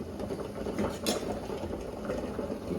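Drumstick sambar (saaru) boiling in a pot, a steady close bubbling and simmering hiss with faint crackles, continuous and fairly quiet with no talk.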